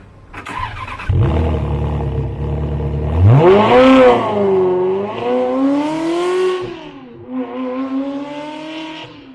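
A Ferrari 360 Modena engine starts close by, settles into a throaty idle, then revs sharply several times in rising, wailing bursts before easing back, loud and alone.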